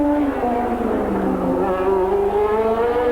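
1983 Detroit Grand Prix Formula One car lapping the street circuit, a loud high-revving engine whine sweeping in pitch as it passes, heard without talk.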